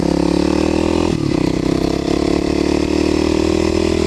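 A Kawasaki KLX250SF dirt bike engine runs loud and close on gravel country back roads, holding a steady drone with a brief dip and rev partway through.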